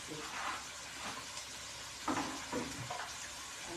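Vinegar and dried fish stirred in a hot pan give a soft, steady sizzle with faint scraping stirs and a few brief louder bursts, heard alone at close range.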